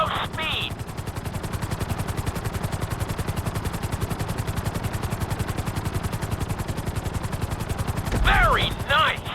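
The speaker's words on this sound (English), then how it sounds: "we'll see how well you handle the chopper" A helicopter flies through a GTA 5 flight-school course, its steady rotor chop pulsing loud and continuous throughout, with a short electronic chirp at the start and another near the end.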